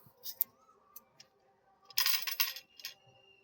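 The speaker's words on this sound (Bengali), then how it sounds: "ওর মধ্যে আমি গোটা মশলাগুলো এবার এক এক করে দিয়ে দিচ্ছি" Whole spices such as coriander, cumin and fennel seeds drop into a hot wok, making faint scattered ticks followed by a louder, closer burst of rattling and sizzling patter.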